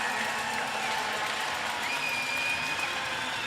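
A stadium crowd at a Mustangs sports game cheers and applauds in a steady, dense roar that stays loud and continuous throughout, with no clear pauses.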